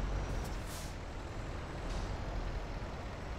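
A heavy truck's air brakes hiss in Euro Truck Simulator 2 with a braking physics mod, giving short, loud bursts of release over a steady engine and road rumble.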